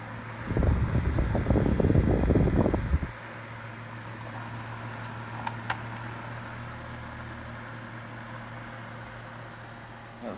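Holmes Lil-Blizzard table fan from 2017 running on its high setting, giving a steady, fairly loud whooshing hum up close after a short burst of louder rustling handling noise at the start.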